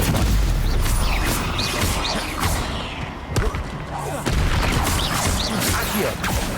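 Spells being cast in Hogwarts Legacy: a dense, loud run of booming blasts, whooshes and impacts, with a brief lull midway before the barrage resumes.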